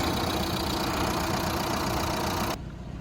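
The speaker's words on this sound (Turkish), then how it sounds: "Arabayı çalıştırdım. Neredeyse stop edecek gibi." A Fiat Egea 1.3 Multijet engine idles roughly up close, nearly stalling, a dense uneven rumble that abruptly drops off near the end.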